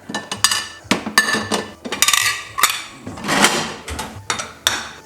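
Two small plates handled in a kitchen, knocking and clinking against each other and a hard surface in a quick irregular series of sharp, close, fairly loud clatters.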